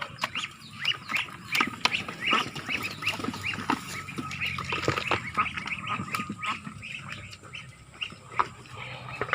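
A flock of ducks quacking continuously, many overlapping calls at moderate distance forming a busy, chattering din.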